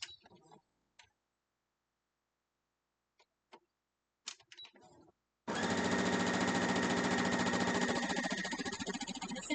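A sewing machine stitches half-square-triangle quilt pieces, starting after a few soft clicks and handling noises, then running in a continuous fast, close, rhythmic whirring chatter that slows slightly near the end.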